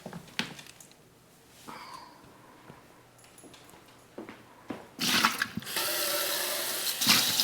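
Tap water running and filling a dog's water bowl, a broadband gush that starts partway through and keeps flowing steadily to the end after quieter handling noises.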